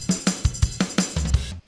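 A single snare drum hit pasted into a GarageBand beat loop, sounding as a crisp accent among the drum pattern; evenly spaced hits over about a second and a half with a low kick underneath, with no talking.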